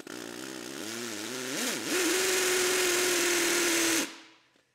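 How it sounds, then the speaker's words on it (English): A power drill bores deep anchor holes into concrete in a workshop, its loud motor whine wavering in pitch before settling into a steady high drone for several seconds, then cutting off abruptly. "Go ahead and drill out my concrete. I'm gonna go fairly deep for these anchors."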